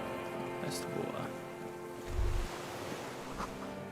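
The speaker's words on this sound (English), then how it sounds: "That's the water." Water waves lap and wash in the Disco Elysium video game, a steady soft surf with a deeper swell midway and faint ambient music beneath.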